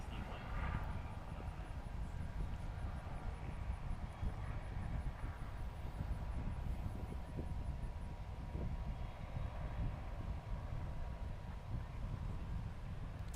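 A STOL airplane at a short-takeoff-and-landing competition in Gallatin, Tennessee, coming in slow to land, its engine a steady distant drone mixed with wind across the field, with a faint voice now and then.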